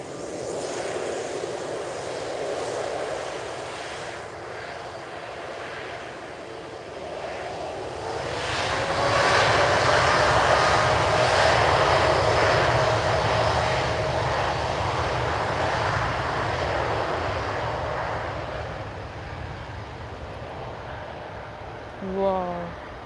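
A passenger jet's engines roar at Lisbon Airport on a cloudy, windy evening, swelling loud and close as the aircraft passes, then easing into a steady distant rumble.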